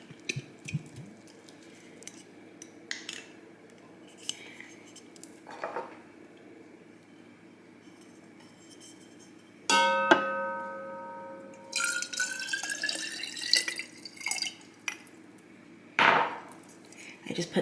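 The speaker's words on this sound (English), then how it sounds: "I'm gonna start by putting the sauce and the water in the crock pot" Kung Pao sauce and water go into a crock pot: soft glugs and drips, then a ringing clink of a jar against the ceramic pot and a longer splashing pour, close by with no talking.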